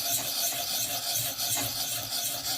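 Steady rasping scrape of a Civivi Relic knife's Nitro-V steel edge being sharpened and reprofiled to a 20-degree bevel, continuous and close with slight rhythmic strokes, no talking.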